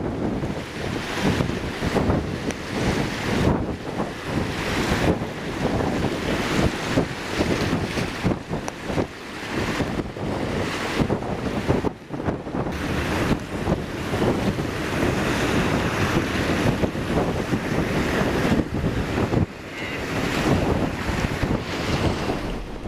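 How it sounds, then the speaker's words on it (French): Strong gusting wind batters the microphone beside rough, heaving sea waves near Ushuaia, a loud continuous roar with surging swells and no voices. "Le vent est violent, la pluie glaciale et la mer houleuse."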